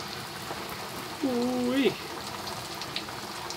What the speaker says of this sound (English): We've heated up the rice bran oil in a wok. And I'm going to carefully lower it in.